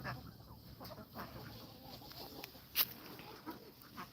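Chickens cluck faintly in a dry backyard garden in early July, a soft scattered patter of calls at some distance with one brief sharper squawk partway through.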